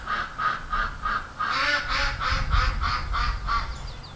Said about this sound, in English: Every time I start talking, the ducks start talking.